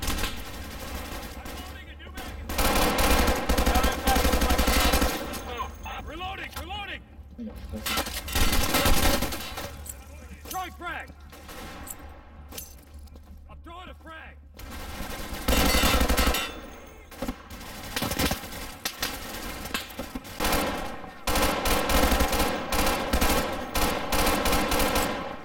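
Gunfire in the co-op shooter game Insurgency comes in repeated bursts of automatic and single shots across the stretch, with loud volleys separated by quieter gaps.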